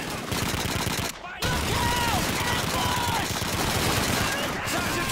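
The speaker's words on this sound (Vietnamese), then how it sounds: "có một thằng nó đang ôm khẩu súng máy" An MG42 machine gun in Call of Duty 2 fires loud, sustained, dense bursts of gunfire, with a short break just after the first second and a brief dip near the end.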